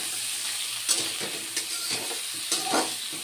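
Vegetable stalks frying with half a spoon of turmeric in a pan, a continuous hissing sizzle punctuated by several stirring scrapes, near and moderate in level.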